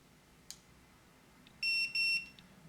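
An electronic keypad deadbolt gives a faint click, then two loud, clear high-pitched beeps in quick succession after its set button is held, with quiet room noise around them.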